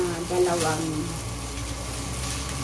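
Garlic frying in a couple of spoonfuls of oil for fried rice, a steady soft sizzle throughout, close and moderate in level, with faint tonal hum and brief voice-like tones early on.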